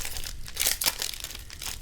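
Foil wrapper of a Zendikar Rising Magic: The Gathering booster pack crinkling and tearing open up close, a steady rustle with a few sharper crackles and no talking.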